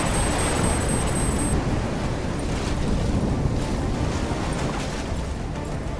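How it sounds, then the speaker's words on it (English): Ocean waves crashing in the Call of Duty Black Ops 3 game, a loud, steady wash of surf and wind noise with a faint high beeping near the start, no voices. "Waves hitting now."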